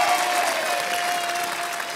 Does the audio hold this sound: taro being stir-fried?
no